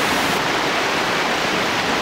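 A waterfall roars outdoors at a forest bivouac spot, a dense, steady broadband rush that is loud and close, with no voices or other sounds over it.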